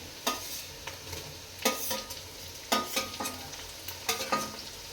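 Ginger, chili and garlic paste fries with browned onions in a pan, a low sizzle broken by several sharp bursts of spatula scraping and stirring, close up, with no talk.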